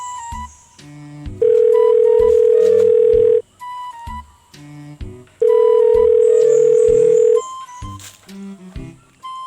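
A telephone ringback tone sounds loudly in two long steady beeps, each about two seconds, separated by a pause, with music underneath.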